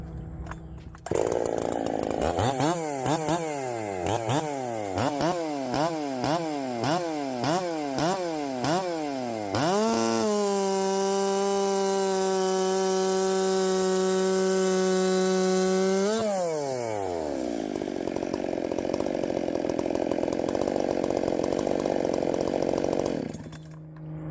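A Jonsered 2165 race chainsaw with an 8-pin sprocket revs in a quick series of rising and falling bursts, then holds a loud, steady high-pitched scream while cutting before dropping to a rougher idle, with no talking.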